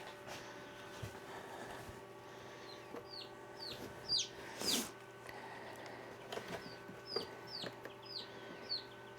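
High, soft peeping of baby chicks, scattered chirps repeating on and off over a steady low hum, fairly quiet and close.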